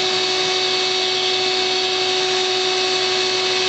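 A Vac-a-Bee vacuum sucking up a bee swarm runs as a loud, steady motor whine with a constant tonal hum and airy hiss, unbroken throughout and without talking.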